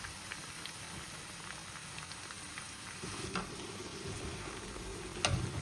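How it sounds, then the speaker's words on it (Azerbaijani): Onions, peppers and tomatoes with tomato juice frying in a pan for a bean dish, a soft continuous sizzle and bubbling with occasional stirring taps, close and steady without talk. "Pomidor suyunu salıb yaxşıca bişənədək tavada qovururuq."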